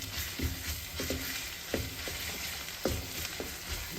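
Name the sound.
ginger garlic paste frying in oil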